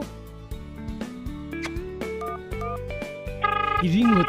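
A cartoon telephone rings with a bright, melodic electronic tone that repeats in short beeping phrases, rising and growing louder toward the end over a playful musical background.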